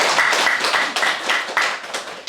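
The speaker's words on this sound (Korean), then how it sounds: "큰 박수 한번 부탁드릴까요?" A small audience claps at a gallery opening, a brief burst of several people's applause, close and fairly loud, ending after a couple of seconds.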